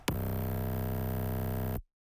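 Synth bass in FL Studio built from a sub and a noise oscillator, run through a compressor: one sustained, dense buzzing bass note that starts sharply, holds steady and loud for under two seconds, then cuts off.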